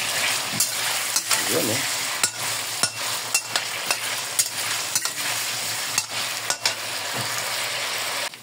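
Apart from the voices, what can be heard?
frying meat stew in oil, stirring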